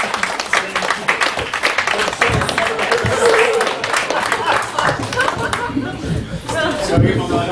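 Open-mic comedy audience claps and chatters as the next comedian is introduced, a lively burst of applause mixed with voices and some laughter close by.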